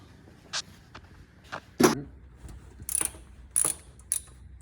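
Ratchet wrench loosening a 14 mm alternator bolt on a B-series engine, several short clicking bursts spaced irregularly, close and moderately loud over faint background.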